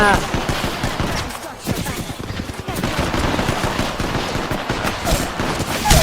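Continuous loud gunfire from the video game Apex Legends fills the whole stretch with rapid automatic bursts and overlapping shots, and voices can be heard under the shooting.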